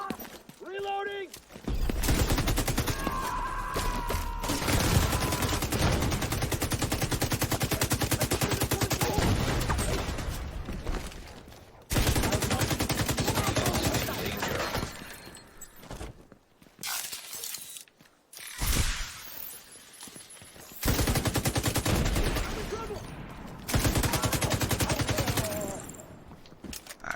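Bursts of rapid gunfire from the video game The Division 2 come in long sustained volleys separated by brief pauses, loud and close, with a player's voice heard intermittently.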